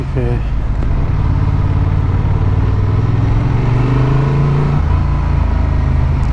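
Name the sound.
Honda XL750 Transalp motorcycle accelerating in sport mode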